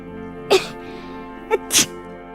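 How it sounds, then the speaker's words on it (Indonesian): A woman sneezes three times indoors, one sharp burst, a pause of about a second, then a quick softer sneeze followed by a bigger one, each close and clear over a quiet background. "Kamu kok bersin-bersin tuh kan?"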